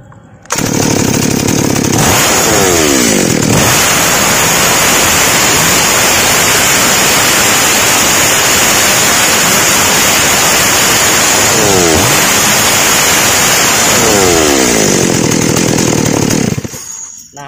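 A small chainsaw engine runs loud and close during an oil pump test, holding a steady high whine with two rev swells up and down, and no talking.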